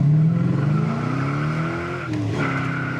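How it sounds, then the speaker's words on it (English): A 1970 Chevelle SS 454 big block pulls hard in second gear, its engine note loud and close, rising steadily in pitch over a few seconds before a brief dip and recovery. "when you're in second gear, cruising a little bit, and you punch it in second gear"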